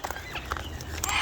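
Wild turkeys gathered at a backyard feed give short clucks and chirps amid faint farmyard bustle, close and moderately quiet over a steady background hiss.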